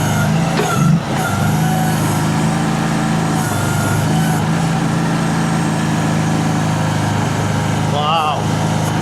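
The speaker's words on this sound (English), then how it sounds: "Let's fire them RPMs up a little. It's still smooth." A mini excavator's diesel engine, an XZ20R bought at auction, runs loud and steady as its RPMs are raised, with a brief drop near the start and a short squeal near the end; no one speaks.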